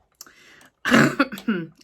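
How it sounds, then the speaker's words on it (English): A few harsh coughs and throat-clearing bursts close to the mic, a faint one first, then a louder cluster of three or four after a pause. "still have a little bit of cough"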